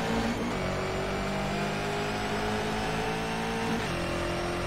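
Bugatti Veyron drag car engine at full throttle in the racing game Shift 2 Unleashed, a steady loud roaring drone whose pitch climbs, then drops briefly near the end as a gear shifts.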